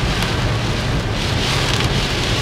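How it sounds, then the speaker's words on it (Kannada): Heavy rain drumming on a car roof in Mumbai, a dense, steady wash of noise heard from inside the vehicle with no voices, loud and constant throughout. "ನೋಡಿ, ಎಷ್ಟು ಜೋರಾಗಿ ಮಳೆ ಬರ್ತಿದೆ."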